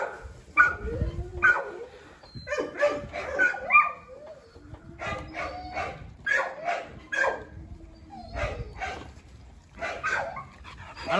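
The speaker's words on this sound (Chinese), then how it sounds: "非常漂亮的小狗啊！" Young Rottweiler puppies bark, yip and whimper in repeated short bursts close by indoors, with a person speaking now and then among the noises.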